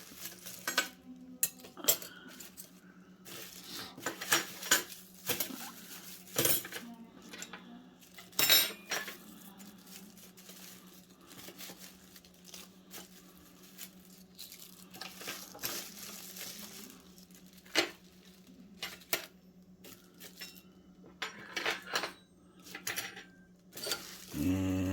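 Stainless steel spoons and knives from a 40-piece Berglander flatware set clink and clatter in scattered bursts, close and fairly quiet, with light metallic taps and handling sounds throughout.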